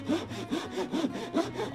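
A hand saw cuts wood held against a bench hook cleat, with steady back-and-forth rasping strokes, about four to five per second-and-a-half, close and clear with no voices.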